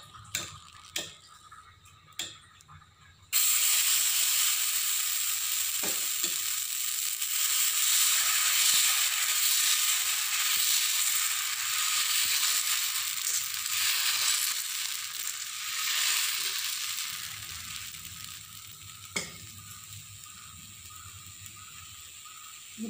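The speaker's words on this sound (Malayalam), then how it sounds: "അപ്പോൾ നല്ല കല്ലൊന്ന് ചൂടായി കഴിഞ്ഞാൽ നമുക്ക് ഇതിൽ ദോശ ഒഴിച്ച് കിട്ടും." Ragi dosa batter hits a hot griddle and breaks into a loud, steady sizzle that starts abruptly and holds close and bright for about twenty seconds before easing slightly, with a few faint taps before it.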